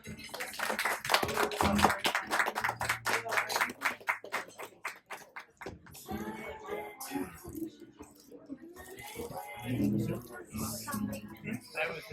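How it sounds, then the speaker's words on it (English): A group gives a round of applause at a birthday gathering, a burst of rapid, close clapping for several seconds that fades out before people resume talking and laughing. "give our collective selves and our individual selves a round of applause"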